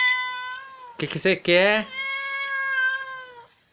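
A house cat meows in long, drawn-out tonal cries, close and loud, before and after a brief spoken question from a person nearby.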